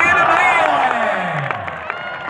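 A stadium crowd at a shooting-volleyball match in Harya Sports Stadium cheers, whoops and claps loudly and continuously, with a dense wash of many voices and scattered sharp claps throughout.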